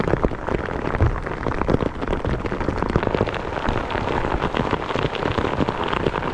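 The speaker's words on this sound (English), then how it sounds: "Can't rain no harder than this." Heavy rain pounds steadily on an open fishing boat on Kentucky Lake, a dense, continuous hiss and patter close around the listener, with no voices.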